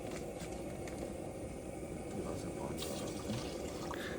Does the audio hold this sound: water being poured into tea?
yes